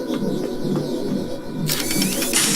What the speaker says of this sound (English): you hear the clicking sounds, that means there's a cannon there